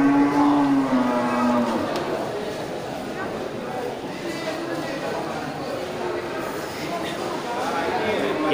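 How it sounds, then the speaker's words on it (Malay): A swamp buffalo (kerbau kling) lets out a long low moo near the start amid a busy, noisy livestock market murmur of distant voices and animals. "ini kerbau kling, ya, kerbau kling dari Simpang Jaya"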